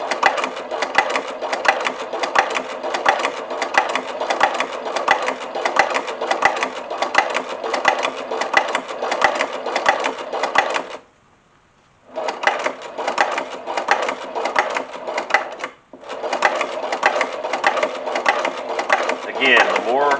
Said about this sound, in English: the more comfortable you get with the machine, the faster you can sew with it